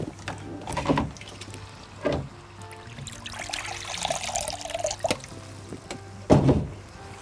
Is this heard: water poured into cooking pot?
yes